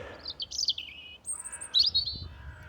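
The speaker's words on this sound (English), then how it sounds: "Lovely birds, robins." A robin sings from a nearby shaded tree on a Dartmoor walk, giving short, high, warbling phrases separated by brief pauses, moderately close over faint outdoor background.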